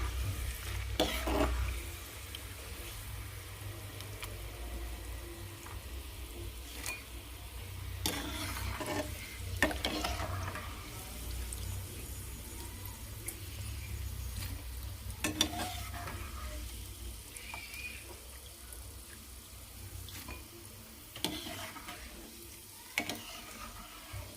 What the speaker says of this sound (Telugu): పల్లీలు కూడా బాగా ఫ్రై చేసుకోవాలి పల్లీలు మంచిగా ఫ్రై అయ్యాయి